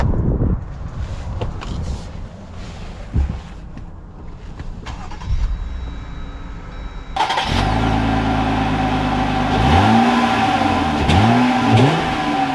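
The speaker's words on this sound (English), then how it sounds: "let's take this gigantic Gladiator Rubicon AEV package out and see how it drives" A 2021 AEV Jeep Gladiator Rubicon JT370 starts off and accelerates, its engine droning steadily loud after a quieter opening, with rising revs swooping through gear changes near the end.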